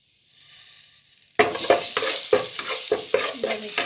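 Makhana seasoning of salt and chili is stirred in a hot pan. Faint background hum first, then a sudden loud sizzle with repeated scraping strokes of the spoon in a steady rhythm.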